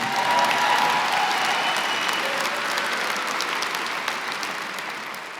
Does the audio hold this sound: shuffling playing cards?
no